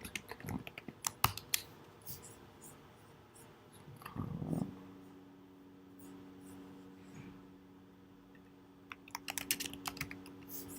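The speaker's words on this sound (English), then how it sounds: "What language am I typing in?" Computer keyboard typing during live coding, quiet and close: bursts of rapid key clicks at the start and again near the end, separated by a stretch of near silence broken by a brief low sound.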